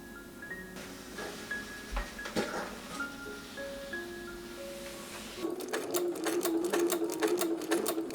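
Sewing machine stitching a French seam on a homemade wedding dress, faint at first under soft background tones, then a rapid, busier run of stitching toward the end.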